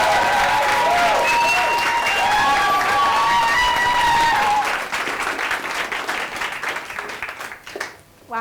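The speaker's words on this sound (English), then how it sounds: "So can we give Natalie a massive round of applause, please?" A conference audience gives sustained applause, dense clapping with cheers and whoops at full strength for several seconds before thinning out and dying away.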